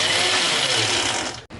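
A mixer grinder roughly grinds cumin, garlic and coconut. It makes a loud, close whirring grind that runs evenly and then cuts off abruptly just before the end.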